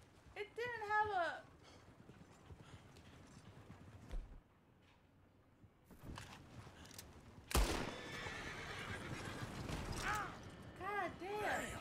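Horses in a video game whinny several times, one near the start and more near the end, over a busy layered background with brief speech-like sounds.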